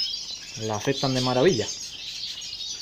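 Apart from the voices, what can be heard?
canaries chirping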